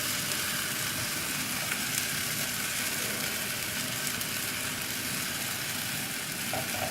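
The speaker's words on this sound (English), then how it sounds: "we'll let the crepe cook until the sides starts releasing by themselves" Steady, dense sizzle of a crepe frying in a pan, constant and close throughout with no talking.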